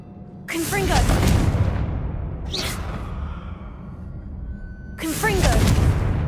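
A Confringo blasting curse exploding in Hogwarts Legacy, with two loud booming bursts about four seconds apart, each trailing a rumble, under a shouted voice and game dialogue.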